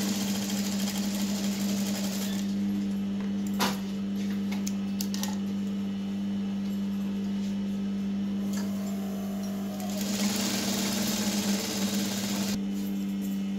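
Sewing machine hums steadily up close while a full circle dress lining is stitched, with small clicks and handling noises on top and a brief burst of louder activity near the end.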